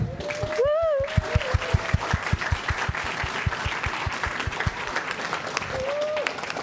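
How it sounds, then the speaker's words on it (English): An audience at a school student success celebration applauds the student council members, a dense crowd of claps over a low rhythmic thumping beat, with voices calling out briefly and a pitched tone sweeping near the start and end. "Can I just have all my student council members stand up real quick so we can just give you a little round of applause too?"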